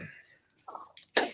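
A single sharp sneeze bursts out close by at the end, after a few faint vocal sounds.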